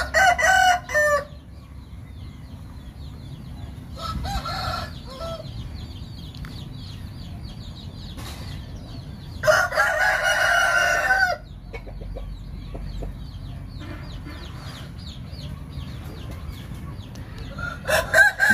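Chickens and roosters at a chicken farm crow and cluck in several loud, separate bursts, with quieter calls and farmyard noise filling the gaps between.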